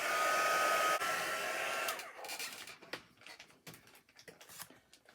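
A hair dryer blows steadily on mixed media paper butterflies for about two seconds, then shuts off, leaving soft rustling and small handling clicks.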